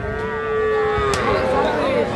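A young bull calf at a cattle market in Raniganj lets out one loud, drawn-out moo close by, over faint market background noise.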